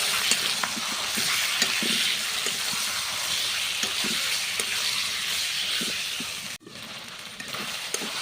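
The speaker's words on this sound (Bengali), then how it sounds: "এখন হচ্ছে আমি মাখানো মাংসটা দিয়ে আর কি কষিয়ে নেব।" Marinated chicken sizzles in a pan with fried onions, giving a steady crackling fry with occasional stirring scrapes, close and continuous with no talking.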